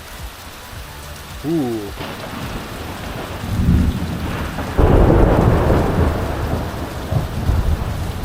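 A thunderstorm outdoors with steady rain on surfaces, low rolling thunder and crackling lightning swelling louder partway through, and a brief exclaimed voice near the start.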